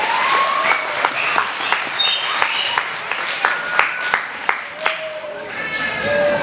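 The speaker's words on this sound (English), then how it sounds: "let's give our parents that have been helping out during the season a round of applause" A crowd at a youth football and cheerleading banquet gives parents a round of applause, a steady wash of clapping with a few sharper individual claps and some voices mixed in.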